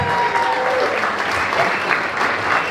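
Audience applause at a business breakfast in Fitzy's Waterford, a steady dense clapping from a roomful of people that stays loud and even throughout, with faint voices mixed in.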